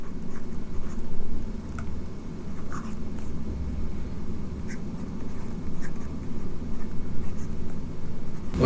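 A marker squeaks and scratches across a board during a Hindi-language math lecture on weighted mean and moving averages, with short strokes recurring steadily at close range over a dull room hum.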